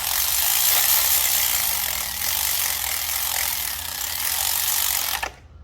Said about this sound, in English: I'm going to use my electric ratchet just to snug them in.